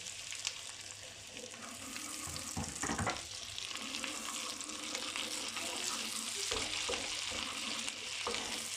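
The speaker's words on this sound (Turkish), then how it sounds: "Ben üzerine doğramış olduğum iki tane biberlerimi koyuyorum." Steady sizzling and crackling of chopped peppers frying in melted butter in a hot pan, with occasional stirring scrapes, close and continuous.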